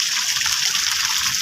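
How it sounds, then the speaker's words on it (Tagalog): Fresh water flows steadily at a town plaza in Passi City, a continuous close gushing and trickling stream with no pauses. "So ari man lang gali ang tubig nga kanabe o priska pa oh."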